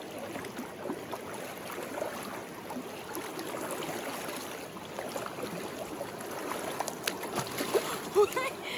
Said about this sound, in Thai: ฟังเสียงน้ำไหล